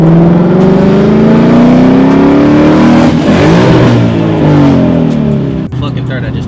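A Ford Mustang GT with a manual clutch revs hard and climbs in pitch under acceleration, dropping briefly through a gear change midway and again near the end, loud and close throughout with a voice faintly underneath.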